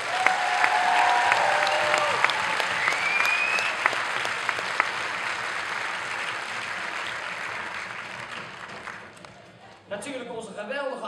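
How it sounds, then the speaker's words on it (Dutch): An audience gives the artists a long round of applause at a small evening stage show. Dense, steady clapping slowly fades, then a voice begins speaking near the end. "Alle artiesten, hartelijk applaus."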